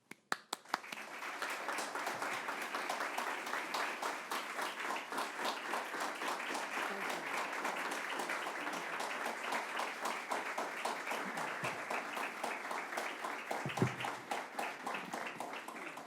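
Audience applause welcoming Governor Hochul at the Ford Center workforce opening event, a steady crowd of clapping hands that starts abruptly and carries on evenly for a long stretch.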